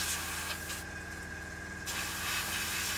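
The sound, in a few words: spraying paint on model radiators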